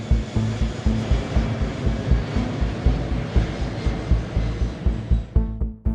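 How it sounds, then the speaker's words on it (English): Jet engines of an airliner on a short Portland-to-Seattle passenger flight roar steadily during the climb, a loud continuous broadband rumble that drops away abruptly near the end. "As the plane ascended"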